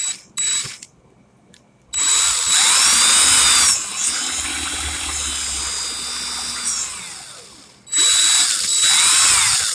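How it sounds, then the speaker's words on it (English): A power drill runs in reverse, whirring loudly in long bursts, pausing briefly between runs, with a high-pitched motor whine and some rattling. "now I got the drill going in reverse the proper way"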